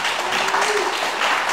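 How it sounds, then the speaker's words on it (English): An audience at a UX and data talk on designing for machine learning data labeling gives the speaker a round of applause, a dense, steady wash of many clapping hands at full volume, with a faint voice underneath. "give another round of applause for Sabrina."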